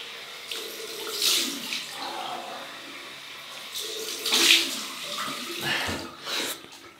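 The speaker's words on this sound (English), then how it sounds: "Cold water rinse." Cold water runs from a tap for a shaving rinse, a steady splashing flow with surges as hands or a razor pass through the stream, close and continuous with no talk.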